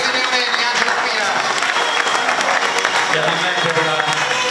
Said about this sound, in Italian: Chiaramente l'applauso deve continuare per chi ha scritto l'opera che vi è stata presentata